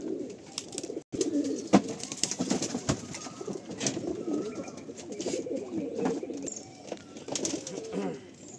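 Pigeons in a loft coo repeatedly in overlapping soft, throaty calls, close by, with occasional rustling and people talking in the background.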